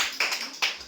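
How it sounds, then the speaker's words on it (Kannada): A few scattered claps at a school quiz program, two or three sharp hand claps close by with faint room noise between them. "ಜೋರೇ ಚಪ್ಪಾಳೆ ಬರ್ಲಿ"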